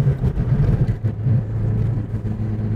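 A drift car's engine revs hard and loud as the tires spin, a steady close roar with sustained low rumble and no pause.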